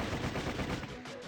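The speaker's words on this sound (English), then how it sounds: "The air erupted in gunfire" Short burst of rapid gunfire in the video game Sweet Fuse, a quick run of sharp cracks close together over a brief moment.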